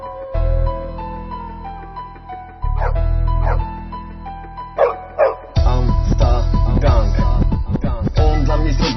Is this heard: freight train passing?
no